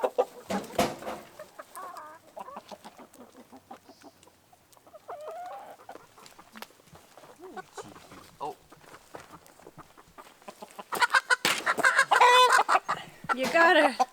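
Barred Rock and red chickens on a Pacific Northwest homestead cluck and squawk near and far around the coop, with a burst of louder agitated calls toward the end and people talking intermittently.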